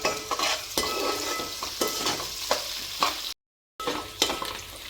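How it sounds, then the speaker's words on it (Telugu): Chopped onions and fresh curry leaves sizzling in oil in a pan for a cucumber chicken curry, with steady close frying hiss and repeated scraping stirs, briefly cut to silence. "ఆనియన్ని గోల్డెన్ కలర్లో వచ్చేంత వరకు ఫ్రై చేస్తున్నారండి."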